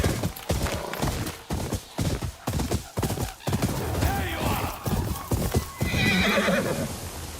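Rhythmic hoofbeats clop at a steady pace, and a horse whinnies loudly near the end, in the video game Ghost of Yotei.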